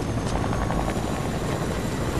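Helicopter in a battle royale shooter game, its rotor chop thudding loudly and steadily at close range, a dense continuous whir with no voices over it.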